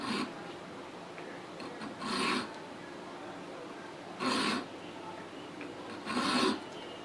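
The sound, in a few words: metal file filing a 1911 pistol frame's front strap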